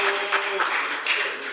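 Audience applause for advisory committee chairman Hong Seong-guk at a Democratic Party economics lecture, a brief burst of many hands clapping with a voice briefly audible at the start.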